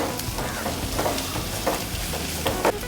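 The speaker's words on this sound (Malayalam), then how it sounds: "അത് ഒന്ന് ഇളക്കി കൊടുക്കും." Drumstick thoran stirred in a pan with crushed coconut, garlic and green chili, giving a soft continuous sizzle with scattered scraping stir strokes, close and moderate in volume.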